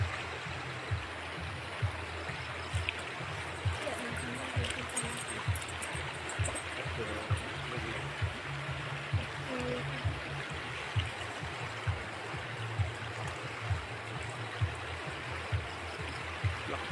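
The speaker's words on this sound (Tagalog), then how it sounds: "Ito yung ilog, tatawirin namin malalim" A deep, muddy brown river swollen by flooding rushes steadily and close by, a broad continuous wash of water with faint rhythmic bumps beneath it and no talking.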